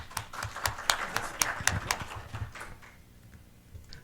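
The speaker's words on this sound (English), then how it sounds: "So welcome with a strong clap to Dr. Kai Schlage, please." A small conference audience claps to welcome a speaker, uneven close handclaps that thin out and stop after a few seconds.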